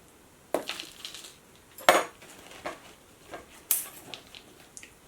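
A spoon scooping and tipping bark-based orchid potting mix into a pot while repotting a phalaenopsis orchid, giving a series of sharp scrapes, clinks and rattles spaced irregularly, close and moderately loud.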